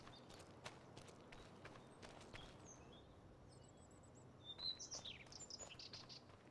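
Pheasants and other birds make faint, distant chirps and tweets as the ambient backdrop of a Farming Simulator 25 map, with soft footstep-like thuds underneath and a brief cluster of calls near the end.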